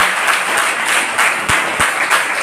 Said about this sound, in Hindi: आप लोग ताली बजा के उनका स्वागत करिए